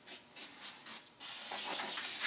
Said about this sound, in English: just take some brake cleaner